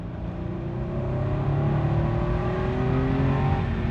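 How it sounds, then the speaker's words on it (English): A 1997 Porsche 911 Carrera 4 engine pulls hard at full throttle in second gear, its rising whine climbing steadily in pitch over a few seconds, loud and close with no talk. "Oh yeah, full throttle second gear there. Very smooth engine that pulls hard."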